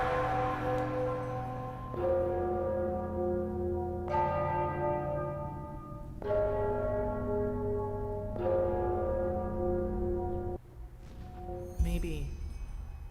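Church-style bells in the fantasy game Enderal: Forgotten Stories toll one after another, about five deep resonant strikes roughly two seconds apart, each ringing out and decaying, ending with a short rustle.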